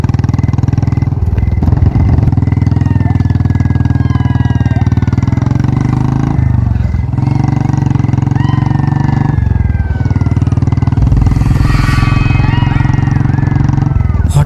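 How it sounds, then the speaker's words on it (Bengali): An animated motorcycle rides along a road at night, its engine a loud, continuous drone that holds steady with brief dips. "বাইক চালিয়ে বাড়ি ফিরছিল"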